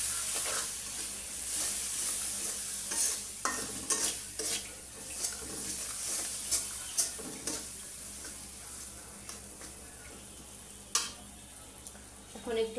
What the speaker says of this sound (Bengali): মশলাটা একটু ভাজা ভাজা করে নিই